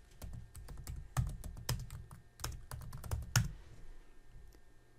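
Close, quiet typing on a computer keyboard: a brisk run of distinct key clicks with short pauses, including a few heavier strikes, with no talking.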